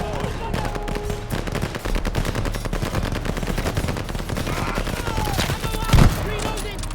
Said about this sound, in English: Suppress the half-track MG!